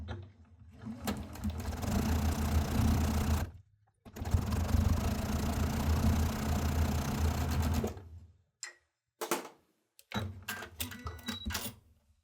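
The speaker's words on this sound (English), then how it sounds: "we can sew these together now" Up close, a sewing machine runs in bursts while stitching quilt stripe pairs: two long steady whirring runs split by a brief stop, then short clicks and stuttering starts as the fabric is repositioned.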